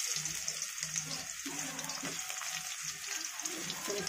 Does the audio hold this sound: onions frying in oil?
yes